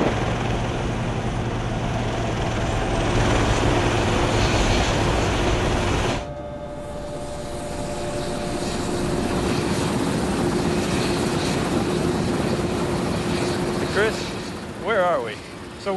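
A steady, loud helicopter rotor roar and engine drone, flying to an offshore oil platform in the Gulf of Mexico, fills the whole stretch, shifting in tone partway through, with faint voices near the end.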